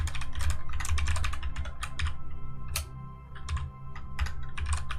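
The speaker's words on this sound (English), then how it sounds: "Hard to type with a headset on." Quick, irregular bursts of typing on a computer keyboard, with close clicking keystrokes coming in clusters over a low steady background hum.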